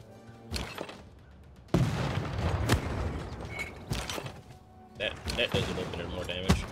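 Cannon and catapult volleys in a Civilization VI battle: several sharp booming impacts and thuds in quick succession over a busy, rumbling backdrop of game combat noise.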